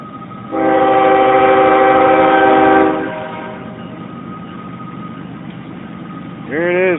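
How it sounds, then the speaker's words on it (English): A passing locomotive sounds its horn at a railroad crossing gate: a loud, steady, sustained multi-tone blast lasting a couple of seconds, followed by the lower rumble of the train and a brief second horn note at the end. "The wailing of a train horn."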